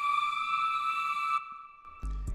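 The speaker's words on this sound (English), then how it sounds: "So I'll play it with just the reverb" A synth melody from FL Studio, drenched in heavy reverb, holds steady sustained tones before cutting off into a brief washy tail, after which a low thump and a new note enter.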